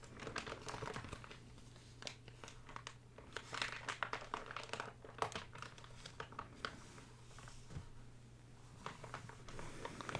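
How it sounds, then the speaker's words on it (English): Glossy magazine pages crinkle and crunch as they are turned and handled up close, a dense run of crisp rustling bursts with no talking. "That was a lovely crinkle on the page turn."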